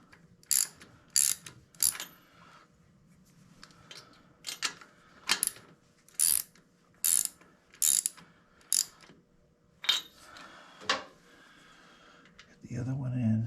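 Ratchet clicking in a quick series of sharp bursts, about a dozen strokes with short pauses, while spark plugs go back into a 2001 Harley-Davidson Heritage Springer motorcycle engine; close and clear, with a low thump at the end.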